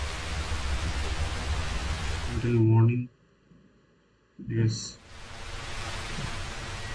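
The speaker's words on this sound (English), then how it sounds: "It's raining and also it's night." Steady hiss of rain falling at night in the video game Red Dead Redemption 2, fairly loud and continuous, briefly cut out for a pause while someone speaks over it.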